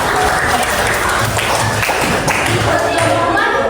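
A classroom of students applauds a group, a dense continuous patter of clapping hands that fills the room, with voices talking over it.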